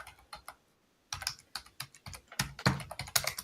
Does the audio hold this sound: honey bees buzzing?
no